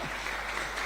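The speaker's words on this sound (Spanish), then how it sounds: "Da un aplauso a Cristo, por favor." A church congregation claps together in a short burst of dense, steady applause, filling the room evenly for under a second.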